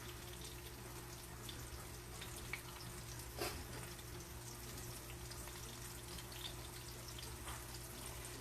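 Breaded milanesa cutlets fry several at once in a pan, giving a faint, steady sizzle and crackle with one brief louder pop partway through.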